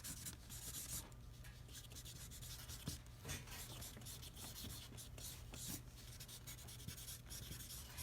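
Washable markers drawn loosely across watercolor paper, a quiet, intermittent scratchy scribbling with short strokes and soft rubbing, close and faint with no talking.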